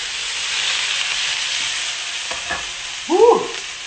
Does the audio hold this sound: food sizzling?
yes